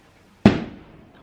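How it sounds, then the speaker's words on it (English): A single sharp firework bang bursts outdoors and its echo decays over roughly half a second, with near silence before and after. "there's fireworks"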